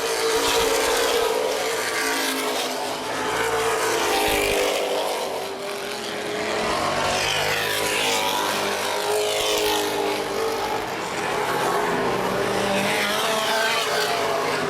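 Late model race cars roar around Baer Field Speedway in a feature race, a continuous loud engine drone rising and falling in waves as cars pass, with a faint announcer's voice in the background.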